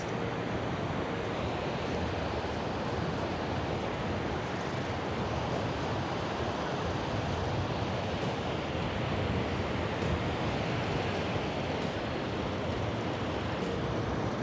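Strong sea wind at Cox's Bazar beach roars continuously with crashing surf mixed in, a dense, steady broadband rush buffeting the microphone throughout, with no voices.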